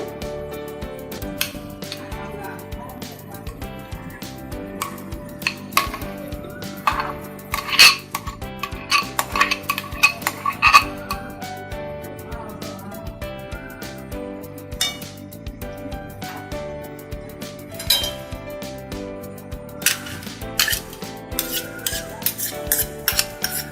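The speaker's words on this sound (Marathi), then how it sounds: "परत आपल्याला मॅशरनी व्यवस्थित मिक्स करून घ्यायचं आहे." Boiled potatoes are mashed with a masher in a pan for pav bhaji, giving repeated metal clinks and scraping stirs against the pot at an uneven rhythm, close by and without talk.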